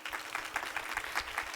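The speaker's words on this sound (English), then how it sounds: "how about a round of applause for our benefactor" Brief applause from an audience honoring a benefactor, a soft, quick patter of clapping lasting under two seconds.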